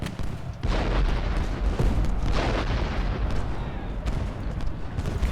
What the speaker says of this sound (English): All the musket, rifle fire, cannon fire, it's fantastic.